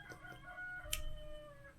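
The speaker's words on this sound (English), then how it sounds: "hello, Rooster." A rooster crows once, fairly faint and set back in the distance, over a quiet indoor background with faint tonal hum.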